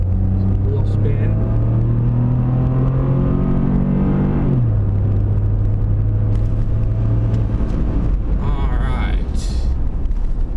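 Ford F150 EcoBoost pickup truck pulling away hard from a standing start with brief wheel spin, a loud steady engine drone that drops in pitch at a gear change, then fades into background rumble.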